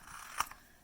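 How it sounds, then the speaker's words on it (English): A single quiet snip of scissors trimming the corner off a piece of paper, one brief crisp cut, close up and alone. "I'm going to use my scissors for cutting this guy out."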